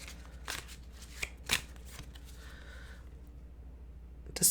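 A Chakra Wisdom Oracle card deck is shuffled in a quiet room, giving a few soft riffling flicks and taps spread apart, faint and close, ending in a sharper shuffle burst.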